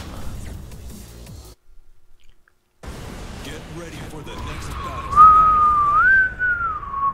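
A human voice imitates Mongolian overtone singing, holding a low droning tone beneath a clear, gliding whistle-like overtone in the last couple of seconds. Brief vocal sounds and a silent gap come before it.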